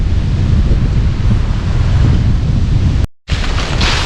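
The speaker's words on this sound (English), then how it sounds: "But that wind sure is high." Strong, gusty wind on open rural land, buffeting the microphone with a loud, continuous roar and rumble, briefly cutting out before resuming.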